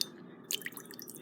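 Water poured into a shallow bowl, heard as a close series of soft, irregular splashes and drips that start partway through and continue to the end, with no talking.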